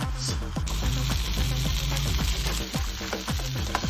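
A cheese sandwich sizzles and crackles steadily inside a hot waffle maker, a continuous close frying hiss under a low humming background.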